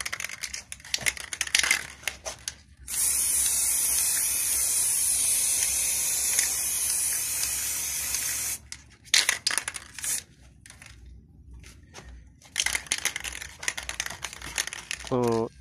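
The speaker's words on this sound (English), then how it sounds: "I'm using a spray paint." Long steady hiss of a spray paint can in sustained bursts, painting a Honda CR-V manifold cover, with short clicks and handling noise between sprays.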